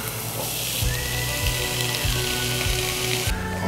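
Onion, garlic and bell peppers sizzle loudly in olive oil in a pan for a short, continuous burst of close frying with faint scraping from stirring.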